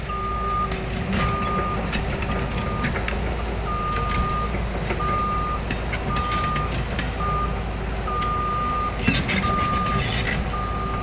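Steady, evenly spaced reversing beeps from an excavator working a wet hillside meadow, sounding over a loud, constant engine rumble and diesel drone, with occasional clanks and rattles from the machine.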